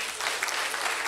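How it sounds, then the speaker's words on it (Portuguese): A short burst of congregation applause during a church sermon, a dense, even patter of many hands, moderately quiet and lasting only about a second. "Você não vai aplaudir a Deus, não?"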